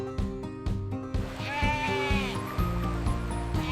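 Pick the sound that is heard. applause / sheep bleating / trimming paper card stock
sheep bleating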